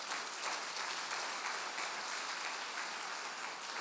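A church congregation applauds steadily, a dense, even wash of clapping from many hands that holds without pause throughout.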